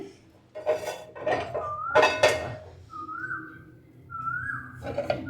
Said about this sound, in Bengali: তো আমি বসিয়ে নিলাম একটা প্যান